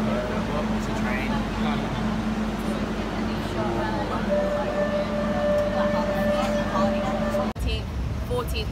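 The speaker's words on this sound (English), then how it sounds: "Welcome to the train." A metro train ride in Barcelona carries a loud, steady rumble and rolling hum inside the carriage, with a sustained tonal whine partway through and people chatting over the noise.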